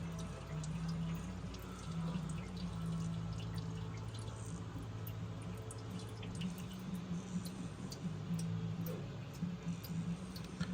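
Fuel injector sprays on a homemade tester with a soft, steady hissing spray and faint ticking pulses running throughout, with no talk.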